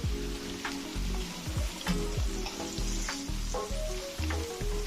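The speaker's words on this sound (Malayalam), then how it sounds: "ഈ എണ്ണയിൽ തന്നെ ഞാൻ മീനെ ഷാലോ ഫ്രൈ ചെയ്തെടുക്കണം" Fish shallow-frying in oil for a fish biryani gives off a loud, continuous sizzle, broken by dull low thumps as pieces are moved in the pan.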